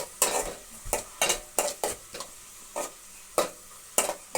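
Sliced onions and green chilies frying in a pan, stirred with a spatula in regular scraping strokes over a steady sizzle, close up with no talk.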